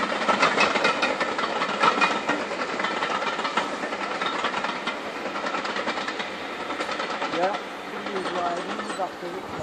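A train rattles past with dense clattering and mechanical noise, loud and close, fading slightly toward the end, with voices faintly underneath.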